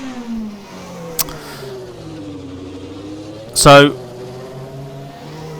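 A 1993 Formula One car in Assetto Corsa idles and pulls out of the pits, its engine a steady buzzing drone that rises and falls slightly, with a brief louder blip and a voice talking over it.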